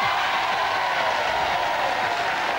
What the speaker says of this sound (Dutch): Dames en heren, geef ze een daverend applaus.